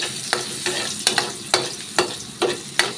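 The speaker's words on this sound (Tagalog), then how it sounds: "nagigisa tayo ng bawang and then sibuyas" A spatula scrapes and stirs garlic sautéing in a pan, with rhythmic strokes roughly every half second over a steady sizzle, close and fairly loud, with no voices.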